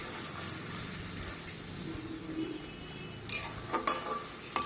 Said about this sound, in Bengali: এবারে গ্যাসটা হাই ফ্লেমে দিয়ে নেড়ে চেড়ে জলটা শুকাতে হবে।